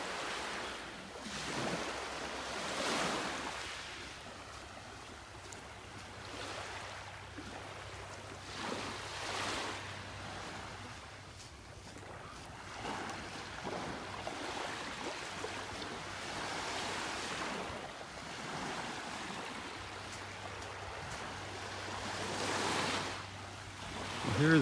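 Ocean surf washes onto a beach in North Naples, Florida, with steady rolling waves breaking in repeated surges, mixed with wind buffeting the microphone; no talking.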